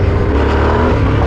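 A 2024 Yamaha Tenere 700 adventure motorcycle accelerates hard on gravel, its engine a loud, close, steady roar that fills the brief moment with no voices.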